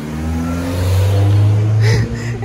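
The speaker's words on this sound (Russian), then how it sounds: "Это машина уже который раз мимо меня проезжает. Этот мини-купер." A Mini Cooper drives past close by on a quiet street, its engine hum swelling to a loud peak and then fading with a brief tire hiss as it goes.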